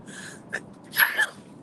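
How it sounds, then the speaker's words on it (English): A single sharp sneeze bursts out close by inside a car while driving, preceded by a short breathy intake, loud and sudden against a quiet background. "I hate sneezing while driving."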